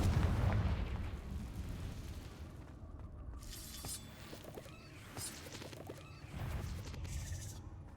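Fiery spell blasts from Confringo in Hogwarts Legacy, a loud burst at the start followed by crackling impacts and sharp bright flares spread through the stretch, with no voices.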